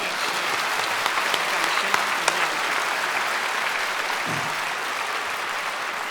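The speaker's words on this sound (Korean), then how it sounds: "박수하겠습니다." Steady applause from a large church congregation at a special early-morning service fills the whole stretch, dense and even, with a few sharper claps poking out.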